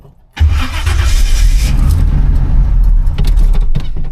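An old Chevrolet C10 pickup, about 45 years old, cranks and fires up by push button, its engine catching abruptly and settling into a loud, steady idle close by, with no talk.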